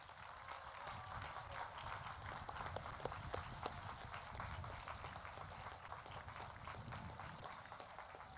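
A high school graduation audience at Oswego East in 2021 gives parents a sustained round of applause, an even, distant-sounding patter of many hands that continues without a break.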